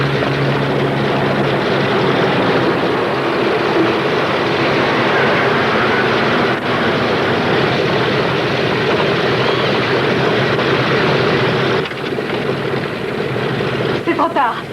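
Aircraft engines roar loud and steady through a takeoff scene in a 1979 French television drama, a dense continuous drone filling the whole stretch while voices speak over it.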